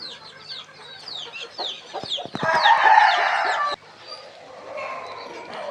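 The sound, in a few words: native country chickens clucking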